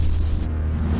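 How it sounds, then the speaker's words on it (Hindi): Cannon shells exploding during an early-morning army assault on a quiet valley in Ladakh, heard as a single continuous low, heavy boom and rumble that fills the whole moment without speech. "शांत माहौल बंदूक से चलने वाली गोलियों और तोप से दागे जा रहे गोलों के धमाकों से गूंज उठा।"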